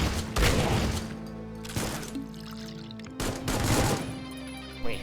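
Bursts of gunfire aimed at the player in the early-access shooter Supplice, three or four loud booming volleys separated by short lulls, with a ringing tone lingering underneath.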